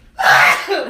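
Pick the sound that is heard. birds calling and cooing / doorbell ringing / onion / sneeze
sneeze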